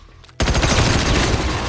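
A sudden burst of loud, rapid gunfire erupts after a quiet moment and continues densely to the end.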